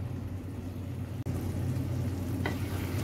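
Fried fish going into a pan of spicy green chilli fish chukka masala, with a steady low sizzle and simmer throughout, one sharp click midway and a short scrape of stirring near the end.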